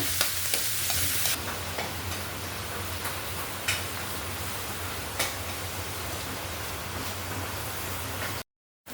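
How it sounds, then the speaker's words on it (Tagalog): Sliced bottle gourd (upo) with black pepper being stirred in a sauté pan: a continuous soft sizzle with scattered utensil scrapes and taps at irregular intervals, with no voices. "Ikos-ikos ulit."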